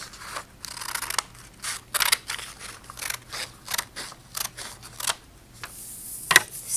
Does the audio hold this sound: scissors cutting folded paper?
yes